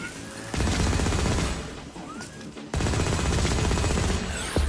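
Gunfire in the sci-fi shooter Firefall, dense bursts of rapid automatic shots in two long sustained volleys separated by a brief lull, loud and close.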